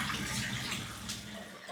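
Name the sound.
water poured from above onto the stairs while cleaning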